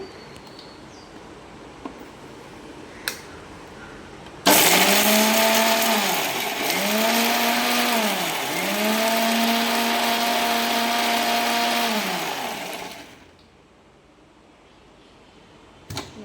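A kitchen mixer grinder whirs loudly for about eight seconds while grinding pirandai chutney, its motor note dipping and rising in pulses as the jar is worked, then cutting off to quiet.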